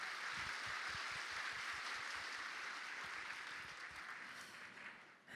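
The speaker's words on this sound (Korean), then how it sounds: "큰 박수 부탁드립니다" Sustained audience applause at a Korean democracy-movement memorial ceremony following performances by a singer, student choir, brass band and student band; dense, even clapping that holds steady for several seconds, then thins slightly.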